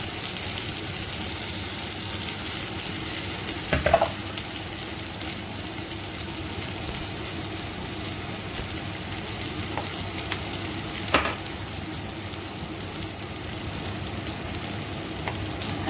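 Rice fries in a pot with salt and cumin, a steady dense sizzle across the whole stretch, broken by a few sharp knocks of a stirring spoon.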